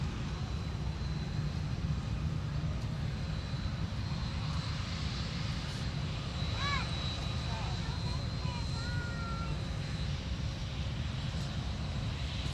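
A Delta airliner at Minneapolis–Saint Paul airport, a steady, loud jet engine roar that stays constant throughout, with a person talking over it and faint radio chatter.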